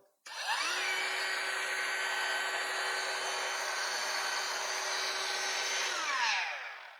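A CAT brushless cordless angle grinder switches on with a soft start, its whine rising smoothly to a steady, close high-pitched spin. It holds for several seconds, then winds down gently as it is released, with no speech.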